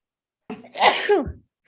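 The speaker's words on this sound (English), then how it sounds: "Oh, no, that was sneeze." One sharp, close human sneeze bursts out, a quick inhale followed by an explosive release, surrounded by silence.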